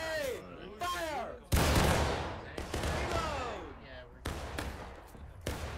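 Musket volley fire in the Civil War video game War of Rights, a loud sudden burst of many overlapping shots followed by scattered later bangs, with shouted voices and excited talk over and around the gunfire.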